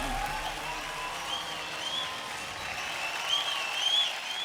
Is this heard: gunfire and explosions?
no